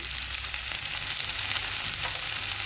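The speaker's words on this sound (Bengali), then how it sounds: "মশলাটাকে খুব ভালো করে কষিয়ে নেব।" Spice paste with a little sugar frying in a pan for a fish curry with onion stalks, potato and soya chunks, giving a steady close hiss of sizzling oil with faint stirring.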